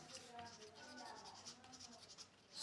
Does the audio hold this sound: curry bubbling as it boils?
no